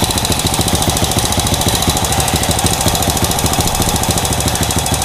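A motorcycle engine idling at low RPM during a check for a leaking valve: a loud, close, steady rapid chugging and knocking that runs without a break for the whole stretch, with no speech.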